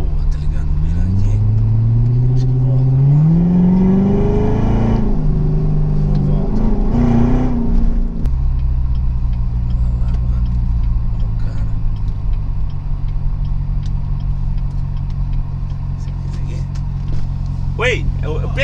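A Corvette engine revs up in rising sweeps and holds a strained drone before settling into a steady low rumble, loud and close throughout.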